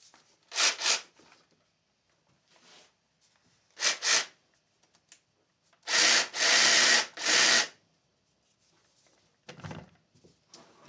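A small coping-saw-style blade cuts wood at a guitar builder's bench in short bursts, two brief strokes, another pair, then a longer run of three close strokes and a faint final pass, near and alone.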